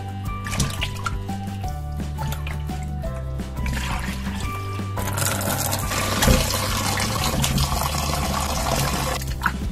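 Kizhgan fish is rinsed in water for a second time, with a steady wash of splashing, trickling and pouring water that gets louder about halfway through. Faint tonal background sound runs underneath.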